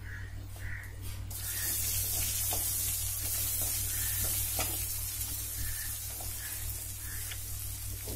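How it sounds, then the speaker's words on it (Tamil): Chopped ivy gourd (kovakkai) sizzles and sautés in a hot pan for a Tamil poriyal, with steady frying hiss throughout and occasional scraping stirs, close and fairly loud with no voices. "கோவக்காயை போட்டுட்டு நல்லா அதை வதக்கி விட்டுட்டே இருங்க."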